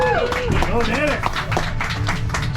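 An audience at the Pikes Peak Cog Railway station in Manitou Springs applauds the train engineer, a lively spread of clapping mixed with cheering voices and chatter throughout.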